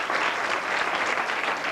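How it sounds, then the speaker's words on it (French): Guests at the inauguration of the Albax body shop in Cagnes-sur-Mer applaud a graffiti artist in advance, a brief, even burst of crowd clapping heard steadily and at moderate volume. "On l'applaudit déjà d'avance."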